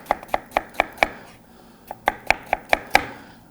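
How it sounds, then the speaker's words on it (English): An onion is sliced with a knife along its ribs on a cutting board, giving a run of crisp, evenly spaced chops, a brief pause, then another quick series, close and clear with no speech. "So we'll take the onion and I will cut it with the ribs."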